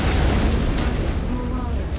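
A booming blast as a damaged mech cooks off in MechWarrior 5 Mercenaries, a heavy low rumble sustained for about two seconds amid battle noise.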